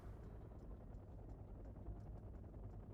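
A Mi-24 recon helicopter in the Wargame: Red Dragon strategy game gives a low, faint, steady engine rumble with a soft rhythmic rotor thump running underneath throughout.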